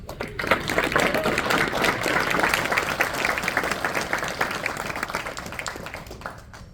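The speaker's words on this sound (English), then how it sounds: "So, please, another round of applause for this." Applause from the audience at a sheriff's office town hall meeting, a crisp crowd of clapping hands that stays strong for several seconds and then gradually thins and fades out.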